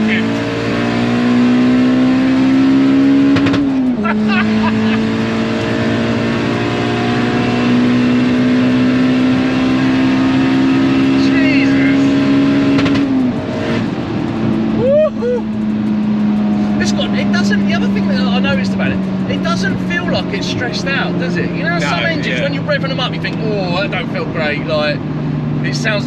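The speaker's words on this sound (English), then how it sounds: "It sounds like it's working hard." Turbocharged B18 engine in a budget eBay-built Honda Civic wagon revs hard and holds high, with pitch climbing and dropping through the rev range, loud and close, while people talk in the background.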